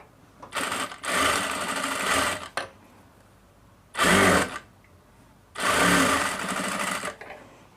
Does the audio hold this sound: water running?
no